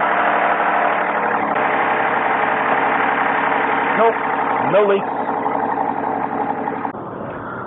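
A Hyundai Santa Fe with a 3.3-liter V6 idles steadily and evenly after an oil change, a constant close engine drone running the whole way through while someone talks briefly over it.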